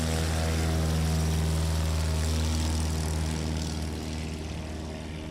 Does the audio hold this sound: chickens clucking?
no